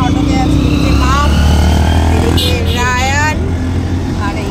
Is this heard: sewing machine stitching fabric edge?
no